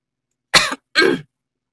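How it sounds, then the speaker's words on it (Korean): Two short, close throat clears in quick succession, each a rough burst, separated by a brief pause in otherwise silent surroundings. "어머니는 제 얘기 듣더니 헛기침하고 목소리 가다듬고는"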